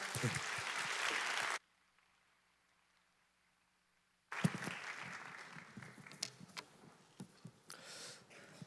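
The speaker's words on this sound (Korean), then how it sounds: "우리 박수로 환대하겠습니다." A church youth congregation claps to welcome a preacher at a worship service. The applause comes in two bursts with a silent gap between them, and the second burst thins out into scattered claps.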